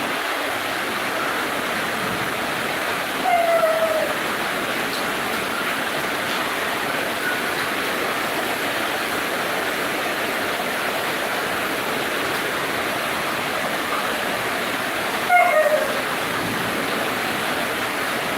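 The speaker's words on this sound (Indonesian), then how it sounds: "Hujan." Heavy rain pours down at night during a flood, a steady dense roar like rushing water that fills the whole clip, with two brief faint chirps rising above it.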